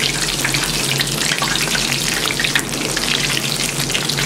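Medu vada lentils fritters frying in hot oil, a dense, even bubbling sizzle that stays loud and steady throughout with no voices.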